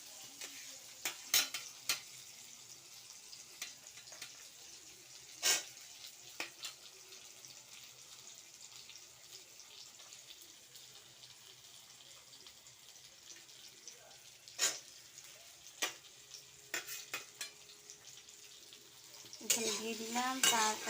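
Tomatoes stir-fried in a pan with potato and squash that were fried earlier, a soft steady sizzle under scattered loud scrapes and clinks of a utensil against the pan, with quiet movement throughout.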